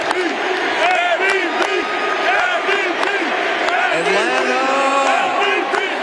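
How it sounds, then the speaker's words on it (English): A large outdoor crowd at the Atlanta Braves World Series victory parade in Cobb County chants for Austin Riley, many voices rising and falling in rhythmic, repeated shouts with scattered whoops across the stretch. "Austin Riley, let's hear that chant."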